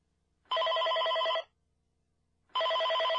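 A traditional telephone bell rings in two clear, steady buzzing bursts about a second long, separated by a pause, loud against an otherwise quiet room with no talking.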